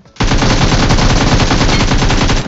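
Sustained rapid automatic gunfire from a video game, loud and continuous, a dense unbroken burst of shots that starts abruptly and runs for over two seconds with no voices over it.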